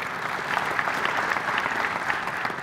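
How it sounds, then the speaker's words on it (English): A short burst of steady clapping from an audience, sustained and even, with no voices over it. "applause for the auditors"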